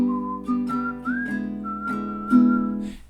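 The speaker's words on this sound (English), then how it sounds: "we want to take those first 2 lines and we whistle the melody" Someone whistles a song melody with lips, clear and close, a sequence of sustained tuneful notes with short breaks between phrases.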